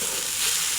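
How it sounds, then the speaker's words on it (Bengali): Potatoes and onions frying together in a pan, a steady close sizzle with no talk over it. "ভালো করে এবার ভেজে নেব একসাথে।"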